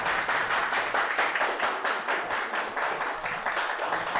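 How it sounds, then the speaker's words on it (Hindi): A classroom of students breaks into steady, sustained clapping, a dense rhythmic patter of many hands that carries on for several seconds with no one talking over it. "इन्होंने पहले ही अगले 3-4 चीट कोड की ताली बजा दी"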